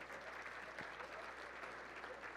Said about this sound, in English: All right, another big round of applause for all those winners